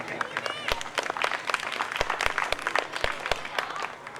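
Audience applause greeting arriving guests at a school motivational speech event, a dense patter of hand claps with sharp individual claps standing out, steady and moderately loud throughout.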